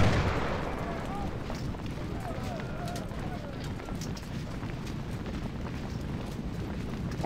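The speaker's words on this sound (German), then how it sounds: "Kanonen abprotzen und Feuer." Booming cannon shots in Ultimate General: Civil War, repeated under busy battle noise with a voice talking over the clash throughout.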